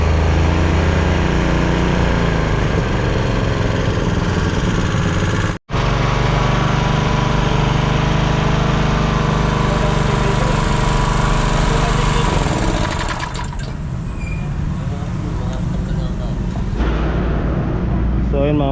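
A small Honda GX-type engine idles steadily after starting, loud and close with a constant droning hum, briefly cutting out for an instant before running on, its tone softening slightly toward the end.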